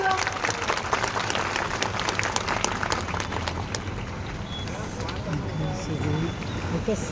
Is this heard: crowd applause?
yes